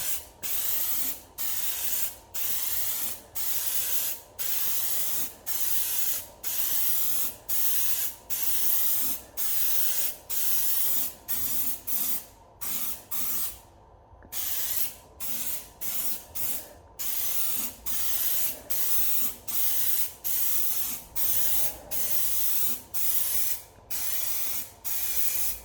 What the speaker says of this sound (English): Keep a 15 centimeters distance and spray in an up and down motion